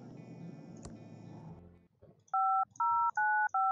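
Four evenly spaced cell phone keypad dialing tones beep clearly and loudly in a Thimbleweed Park adventure game, following a stretch of background game music that cuts out.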